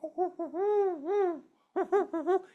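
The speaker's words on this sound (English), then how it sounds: "Barred owl. We hear one all the time across the street from us." A barred owl gives its rhythmic hooting call in two clear bursts, a long sequence of rising and falling hoots followed after a short pause by a quicker group, sounding fairly close and standing alone.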